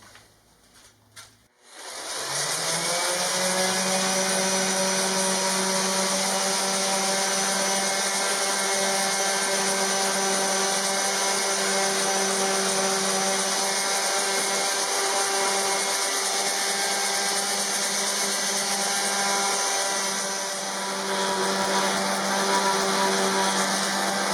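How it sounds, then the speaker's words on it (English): A power sander whirs to life after a brief clatter and runs steadily, a loud buzzing drone holding constant to the end. "Then some sanding."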